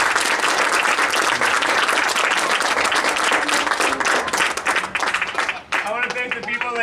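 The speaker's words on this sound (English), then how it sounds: "I want to again applaud them for all their work and their effort as well" An audience applauds band camp students at Baldwin Woodville, Wisconsin, with loud, dense, sustained clapping throughout, a few voices surfacing near the end.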